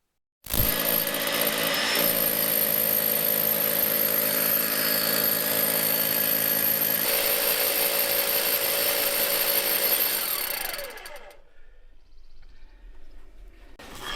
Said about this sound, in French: Jean-Philippe a déblayé la terre pour accéder au mur de fondation et commencer à percer pour le tuyau d'aspiration